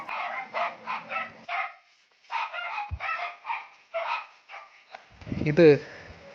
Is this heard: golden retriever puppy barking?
yes